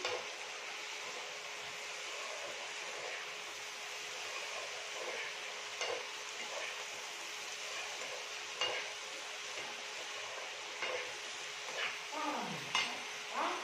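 Chicken frying in a pan with salt, turmeric and sugar while being stirred, a steady sizzle with scattered scraping and clinking of a utensil against the pan, close and moderately loud.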